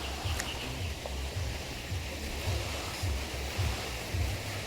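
Water at Hinaguan makes a steady, close wash of surf or lapping waves under wind noise, with low rhythmic swells and no talking.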